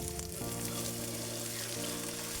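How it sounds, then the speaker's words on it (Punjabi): Finely chopped onions sizzling in hot mustard oil over a stove, a dense, loud continuous crackle with a steady hum beneath, no voices. "ਲਓ ਜੀ ਮੈਂ ਸਰੋਂ ਦਾ ਤੇਲ ਪਾ ਲਿਆ ਹੁਣ ਆਪਾਂ ਇਹਦੇ ਵਿੱਚ ਪਾਵਾਂਗੇ ਪਿਆਜ਼"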